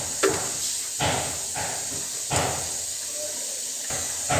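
Mustard seeds dropped into a generous pool of hot oil for tomato chitranna hiss and sizzle in several sharp bursts, with a steady frying hiss running close and loud between them.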